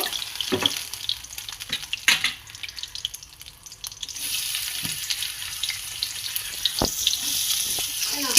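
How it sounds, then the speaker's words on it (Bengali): Onions fry in oil for katla fish kalia with a broad, steady sizzle that swells louder midway, broken by occasional clinks and scrapes of a spatula against the pan, close and without talk. "নিয়ে পেঁয়াজটা লাল লাল করে ভাজতে থাকবেন। পেঁয়াজটা আমি এবার ছেড়ে দেব।"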